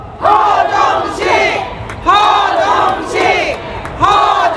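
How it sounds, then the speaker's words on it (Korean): A large crowd at a 2024 election campaign rally for the Michuhol-gu Gap district chants a candidate's name in loud, rhythmic two-beat bursts, repeated several times in unison. "여러분들의 함성과 연호로 허정식 3회 연호하고 마무리하겠습니다"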